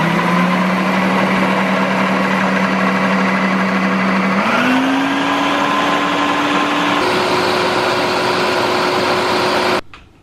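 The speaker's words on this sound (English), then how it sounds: "if you have a proper food processor, you can use less and actually properly grind the seeds" A food processor grinding sesame seeds into tahini, a loud steady motor whine that steps up in pitch twice as it runs, then cuts off abruptly near the end.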